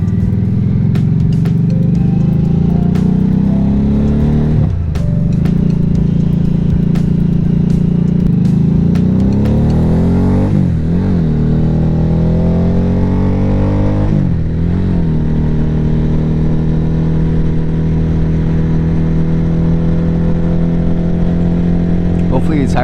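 Harley-Davidson Nightster motorcycle engine driven hard at high RPM, loud and close, with a steady droning roar that rises in pitch through each gear and dips briefly at several shifts over a long continuous run.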